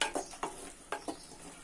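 Masala spices frying in a pan for fish curry, with a few quick stirring scrapes and a soft sizzle, close and fairly quiet, no voices.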